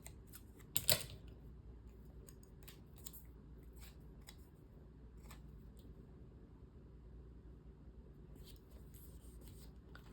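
Scissors trim paper in quiet, close snips: one sharp cut early on, then a scattering of lighter clips and rustles spread out over the rest.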